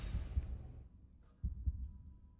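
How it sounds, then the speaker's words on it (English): A heartbeat sound effect from an animated fantasy series: two soft, deep double thumps separated by a pause, low and muffled, with no talking over them. "Heartbeat."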